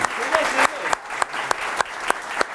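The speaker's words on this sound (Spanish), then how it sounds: "Un aplauso." A comedy show audience applauds over a rhythmic series of sharp, regular claps, with voices and cheering mixed into the brief burst.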